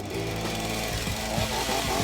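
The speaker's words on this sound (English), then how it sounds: "get the chainsaw on it and kind of see what's inside" A chainsaw cuts into wood with a steady engine drone and rough, straining bursts as the chain bites, moderately loud and close, with no speech.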